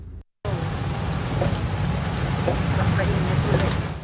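Heavy rain pours during flooding in Lipa, Batangas, a dense, steady roar with traffic noise beneath, starting abruptly after a brief silence.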